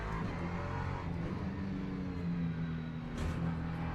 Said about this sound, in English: This car is louder than the Porsche.